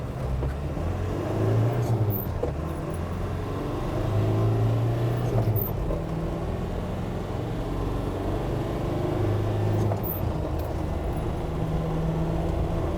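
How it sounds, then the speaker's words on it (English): Standard Land Rover Defender with a 300Tdi diesel engine accelerating hard toward 60 mph, heard from inside as a loud, steady engine drone and road rumble with gear-change dips. "takes to get to 60 miles per hour in a completely standard 300 TDI"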